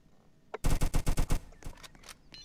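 Gunfire in Roblox Jailbreak rings out as a single shot followed by a quick burst of six evenly spaced loud shots, then a few fainter pops.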